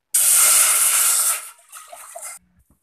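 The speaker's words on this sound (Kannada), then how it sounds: "ನನಗೆ ಒಂದು ಪಾತ್ರೆಗೆ ನೀರು ಹಾಕೊಳ್ತಾ ಇದ್ದೀನಿ." Water gushes from a kitchen tap into a cooking pot for pasta, a strong hissing stream for just over a second that then thins to a lighter trickle before stopping.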